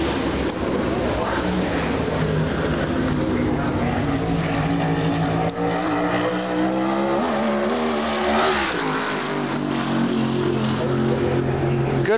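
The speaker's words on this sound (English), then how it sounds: "we still have some of the fastest cars coming up with Bobby Santos and Kody the King Swanson." USAC Silver Crown race cars roar around Winchester Speedway during qualifying, a loud sustained engine howl with pitch shifting as a car passes, under an announcer's commentary.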